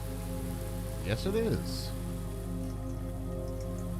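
Steady rain falling inside a video-game greenhouse, a constant hiss of drops under a low hum, with a brief stretch of speech partway through.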